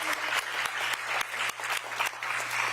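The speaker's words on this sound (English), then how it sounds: "One more round of applause for Beth, for our phenomenal MCs" Audience applause closes an evening educator awards ceremony, steady dense clapping from a room full of people with a faint low hum underneath and no voices.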